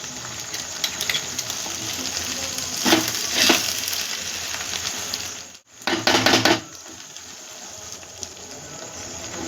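Ghee sizzles in a pan while Kanika Bhog, a sweet rice dish, cooks. A loud, steady hiss runs close throughout, with a few stirring scrapes and a brief dip before a burst of crackling.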